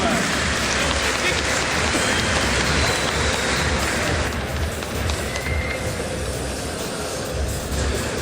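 A crowd at a fight event in Sarıçam applauds as a district mayor is introduced, a dense, rain-like roar of clapping that fills the hall steadily from start to finish.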